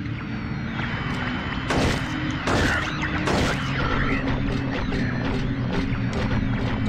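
Gunshots from the Silent Hill 3 video game crack out in a few sharp bursts over a low droning game soundtrack and mechanical clatter, the shots close and loud with brief gaps between them.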